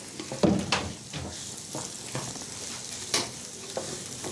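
Food is stirred in a cooking pot, with intermittent scraping and clattering strokes at an irregular rhythm over a faint sizzle, close up and moderately loud, with no talking.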